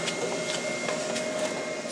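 An STS6090 CNC router with RichAuto control homes its axes, giving a steady mechanical whir of stepper motors driving the gantry, even and fairly close, with no talk.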